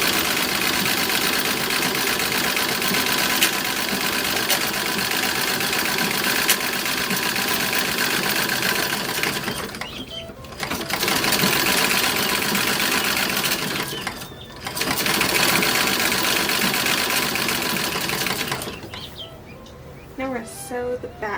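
A sewing machine running continuously at close range while stitching the side and shoulder seams of a 1930s–1940s style toddler dress, with brief pauses around the middle and near the end.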